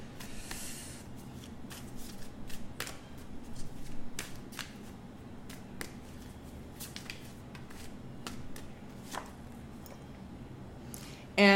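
Tarot cards being shuffled and dealt, a run of crisp riffling and snapping card flicks, close and fairly quiet, repeated steadily throughout.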